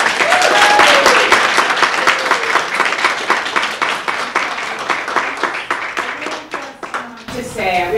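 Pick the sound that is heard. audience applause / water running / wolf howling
audience applause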